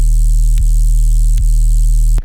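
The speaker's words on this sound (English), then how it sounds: "So again, what I did is just added this sub bass that sounds like this." A loud, steady low sub bass synth tone hums continuously with a faint buzzy edge, briefly dipping twice before cutting off abruptly.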